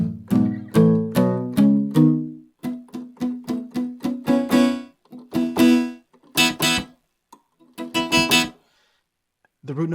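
A sampled guitar plays short muted note groups with the sustain pedal up, clipped plucks in quick bursts and separate chords with brief silences between phrases.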